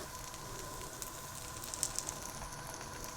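Dosa batter topped with torn mozzarella sizzles in a hot pan, a steady, quiet crackling hiss with faint pops, continuous and close, no voices.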